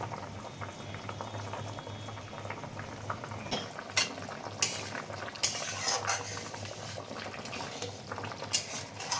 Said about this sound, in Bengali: তেমনি স্বাদ ফুটন্ত ঝোলে আমি দেবো কাঁচা সর্ষের তেল